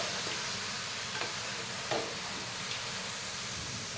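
Chicken sizzles steadily in a hot pan while a spoon scrapes and stirs it with a few soft knocks, no talking.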